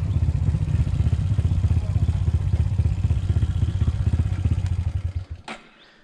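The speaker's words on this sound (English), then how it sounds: "I like how these bikes just keep climbing." Motorbikes labour up a steep mountain trail, their engines a steady throbbing drone near and loud that carries on for about five seconds before cutting off abruptly.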